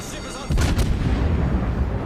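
Heavy naval guns boom from a warship in the video game World of Warships, a sudden loud salvo followed by a rumbling roll of further shots over steady engine and sea noise.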